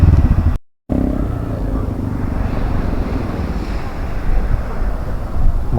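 Sea and wind at Arnala beach, a steady broadband roar of surf and gusting wind buffeting the microphone, continuous and fairly loud apart from a brief dropout near the start.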